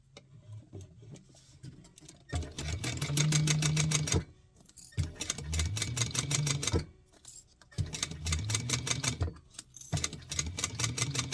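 A sewing machine basting a garment lining, stitching in fast rapid-fire bursts of a few seconds each with short quiet pauses between runs, close and clear with no talk.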